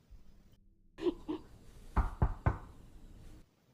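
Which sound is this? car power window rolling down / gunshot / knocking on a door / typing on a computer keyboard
knocking on a door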